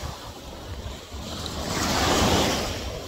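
Sea waves rolling onto a beach in Capiz, Philippines, a broad wash of surf that swells louder toward the end, with wind buffeting the microphone and no talking.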